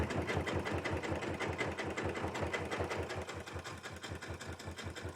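A sewing machine stitches jelly roll fabric tubes for a rug, running steadily with a fast, even mechanical chatter that stays close and continuous with no talk.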